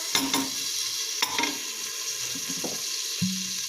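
A wooden spoonful of butter melting in a hot pot for soup, giving a close, continuous sizzle with a few scraping clicks and light clatter, no talking.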